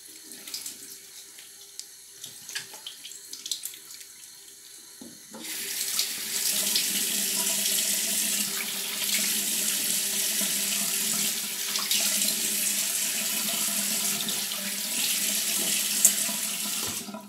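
Water running steadily from a bathroom tap while the face is rinsed, a steady close hissing flow that starts abruptly after some quiet handling noises and continues without talk.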